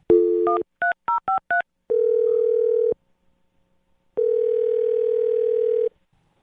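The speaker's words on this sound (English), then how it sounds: "All right, Andy, I'm going to dial her phone number right now." A telephone number is keyed in as a quick string of about six short touch-tone beeps, followed by two long, steady tones separated by a pause of silence, all loud and clean with no talking.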